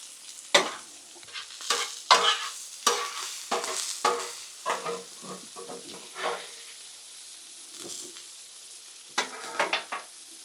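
Onions and steak sizzle on a griddle while a metal spatula scrapes and taps the flat top in irregular bursts, with soft frying hiss between the sharper clatters.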